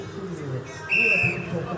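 A referee's whistle at a Nancy versus Chambly ball game gives one short, piercing blast of about half a second, over a low murmur of crowd and voices.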